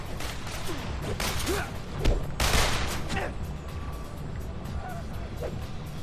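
Police gunfire during a street fight with the Apocalypse gang in the Spider-Man 3 video game, heard as a continuous crackle of shots and bangs over a dense wash of action noise and muffled voices.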